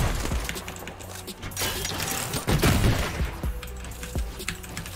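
A PUBG-style shooter game produces bursts of gunfire, dense rapid cracks and thumps that come and go over several seconds, loud and up close, with clicking between the volleys.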